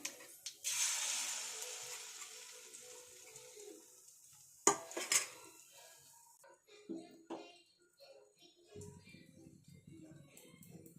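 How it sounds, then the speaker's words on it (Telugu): Omelette mix hits hot oil in a pan with a broad sizzling hiss that fades, followed by scattered clinks and scrapes of utensils, while a person talks over it. "ఇప్పుడు ఆమ్లెట్ మిక్స్ని ఇందులో యాడ్ చేసేస్తున్నాను."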